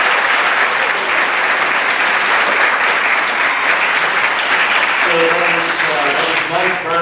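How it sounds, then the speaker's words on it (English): Loud, dense applause from a gathered crowd at a school time capsule event, continuous throughout, with a voice briefly emerging over the clapping near the end. "let's give LMI a big round of applause"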